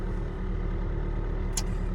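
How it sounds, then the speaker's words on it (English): An old car's engine idles while warming up, a steady low rumble heard from inside the vehicle with one brief high click partway through and no voices. "You know you have an old ass car when you have to wait like 5 minutes for it to warm up."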